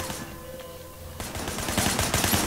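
Gunfire in the open-world action game Sleeping Dogs, background rattle at first with a tonal hum, then a closer, louder burst of repeated shots crackling through the second half.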